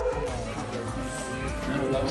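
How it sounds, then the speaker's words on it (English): A working sheepdog barks at a flock of sheep in a paddock, a few sharp barks close by, mixed with a voice speaking over it. "Albert likes to bark at the sheep"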